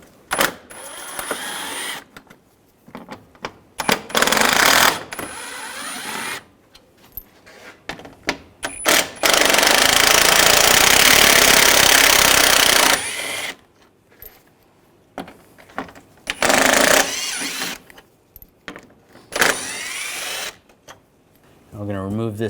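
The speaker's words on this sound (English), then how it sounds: "Using a T30 socket, we're going to take these screws out." A T30 socket tool backing screws out of the upper grille area on a 2009-2010 BMW 535i xDrive, with clicky ratcheting and mechanical bursts, one long steady stretch, between pauses.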